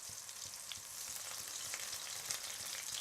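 Apple and clementine beignets frying in hot oil, a steady close crackling sizzle with scattered pops and no talking.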